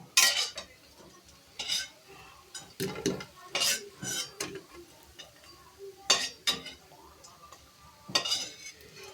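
Crisp fried snacks are lifted out of a frying pan of oil during home cooking, with repeated clinks and scrapes of a metal utensil against the pan over a faint background sizzle, heard up close in short uneven bursts.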